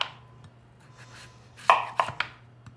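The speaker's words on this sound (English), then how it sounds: "The most annoying part of this recipe is cutting the squash because it can be hard and dangerous" A kitchen knife cuts through a hard honeynut squash on a board, with a few quiet scraping strokes followed by three sharper, louder chops near the end, alone with no voices.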